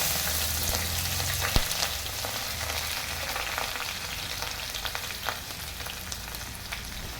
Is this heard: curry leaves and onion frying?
yes